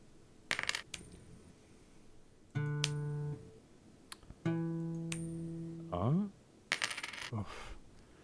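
Coins flip and clatter down in Unfair Flips, a handful of separate bright metallic landings with ringing chimes and rising tones between them, loud against a quiet background.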